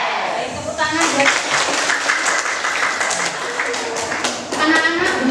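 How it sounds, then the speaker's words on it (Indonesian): Classroom of ninth-grade junior high students clapping for their classmates: brisk, close group applause with sharp taps, steady for several seconds and swelling again near the end, with voices mixed in. "tepuk tangan buat"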